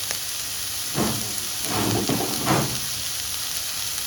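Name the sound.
onion and ginger sautéing in a pan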